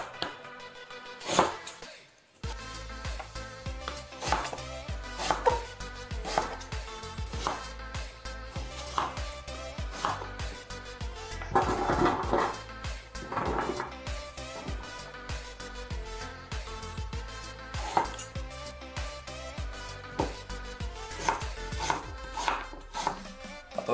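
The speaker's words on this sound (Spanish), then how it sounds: "Cortamos la patata." A knife chops a potato on a board in a kitchen, with repeated sharp, close chopping taps at an uneven rhythm, fairly quiet overall with faint background clatter.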